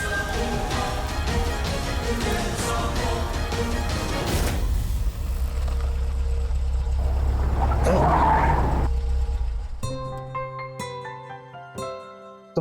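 A car drives along with a loud engine roar and tyre noise, swells into a surging rush, then slows and stops, giving way to a quieter tonal music-like tail.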